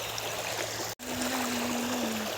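A small stream flows with a steady, hissing rush of water, close and fairly quiet, with a momentary cut partway through and a faint low hum later.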